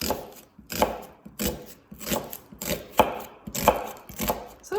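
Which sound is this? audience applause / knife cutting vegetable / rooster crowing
knife cutting vegetable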